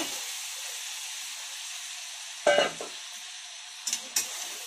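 Cauliflower florets are tossed into a hot pan of spiced oil for a fish-and-cauliflower curry. A steady frying hiss runs throughout, and a few sharp stirring clatters and scrapes come near the end.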